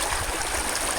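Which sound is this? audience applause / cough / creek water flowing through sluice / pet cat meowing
creek water flowing through sluice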